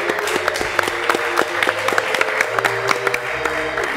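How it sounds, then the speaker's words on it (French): Studio audience at a French TV broadcast claps steadily, a dense, close burst of applause with sharp individual claps standing out, continuing throughout without talk. "Ne finissez pas d'applaudir, continuez, c'est pas fini."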